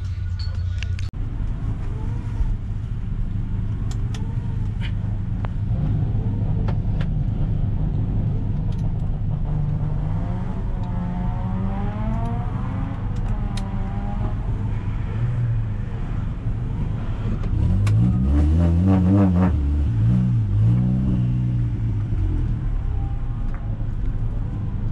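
Onboard a race car during a Formula Driver hillclimb run at Učka, the engine drones steadily and loudly throughout, with rising and falling revs and a heavier surge of revving toward the end.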